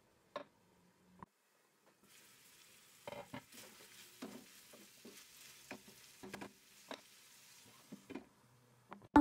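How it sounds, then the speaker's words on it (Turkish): Quiet sizzling and frying of minced meat and onion in a pan with intermittent stirring scrapes and clinks, fairly close, no talking. "kıymanın ve soğanın kokusu çıkana kadar kavurma işlemine devam ediyorum"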